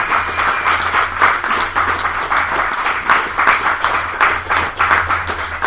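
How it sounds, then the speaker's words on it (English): An open-mic poetry audience claps warmly after a featured poet's reading, a lively, fairly loud burst of many hands that holds steady with slight surges. "Come on, final applause."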